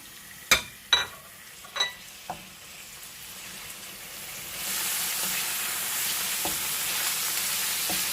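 A few clanks of a pan, then a strong steady sizzle of chicken frying in hot olive oil that continues to the end.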